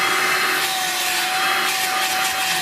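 A Vax Air Cordless Handheld H85 20V vacuum cleaner runs close by with a steady, loud airy whoosh and a high motor whine that holds constant throughout, with no speech.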